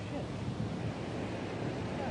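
Waterfall and rushing river water roaring in the background, a steady broadband wash that is constant and moderately distant, with no distinct voices.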